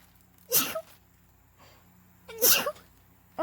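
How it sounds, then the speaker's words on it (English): Two sharp sneezes from someone with allergies, close and loud, about two seconds apart, each with a quick breathy burst and quiet between. "My allergies have started acting up the last couple of days, so I'm starting to sneeze again."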